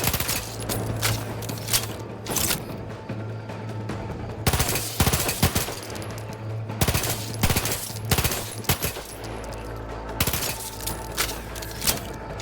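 Rapid automatic gunfire from a machine pistol in the video game The Outer Worlds 2, sounding in repeated dense bursts with short pauses between them over a steady low game soundtrack, with no talking.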